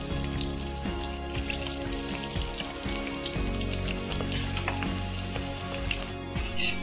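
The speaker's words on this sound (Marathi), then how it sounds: "हे जे लसूण पाकळ्या आपण 10-12 हे पण तळून घेऊया" Ten to twelve garlic cloves fry in hot oil for poha chiwda, giving a steady, close sizzle with scattered crackles and pops and no voices.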